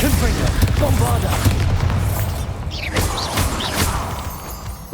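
Confringo and Bombarda spell blasts in Hogwarts Legacy, booming impacts and crashes in the middle of a continuous loud battle din, with a voice calling out over them.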